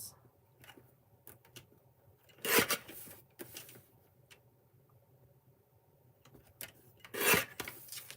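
Paper card being cut twice for a handmade interactive memory-book card, two short crisp snipping bursts close up in a quiet room, with faint rustling and handling noises between them.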